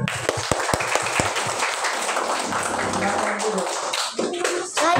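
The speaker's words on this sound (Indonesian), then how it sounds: "Tepuk tangan yang keras" Schoolchildren in a religious education classroom clap loudly on their teacher's call, sharp distinct claps at first, then a busier mix of clapping, voices and room noise that drops out briefly before resuming.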